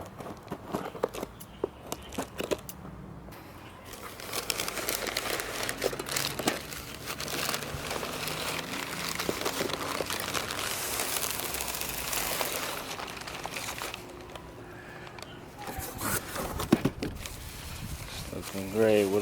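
Paper packaging crinkles and rustles close by as a box of plants is carefully opened, long stretches of crumpling that come and go, with speech over parts of it.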